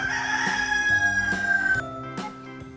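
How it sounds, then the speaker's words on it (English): A rooster crows over a rhythmic music backing, the call standing out clearly for a moment before the beat carries on. "H for hen."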